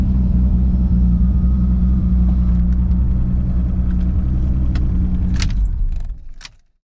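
A Toyota car idles steadily with a loud, close, low engine rumble as it drives off a trailer. Keys jangle and clink toward the end, and then the sound cuts off abruptly.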